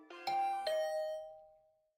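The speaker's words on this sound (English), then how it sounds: "as I rang her doorbell" A doorbell in a video game rings with a two-tone ding-dong chime that sounds clearly and alone, then fades into a lingering ring.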